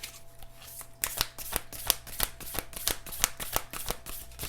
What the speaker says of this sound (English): These cards are so jumbo size that they're hard to shuffle.